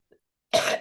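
A single sharp cough comes up close after a brief near-silence, loud and abrupt, followed by the start of a second one.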